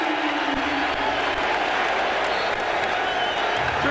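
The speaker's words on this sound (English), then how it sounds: "Good job by Cassell to get this crowd in the game" A basketball arena crowd at a 2003 playoff game between the Nets and the Bucks roars and applauds steadily, a dense wash of cheering and clapping that fills the whole stretch.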